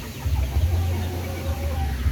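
Chickens cluck softly against a low, steady rumble of strong wind outdoors, with no voices present.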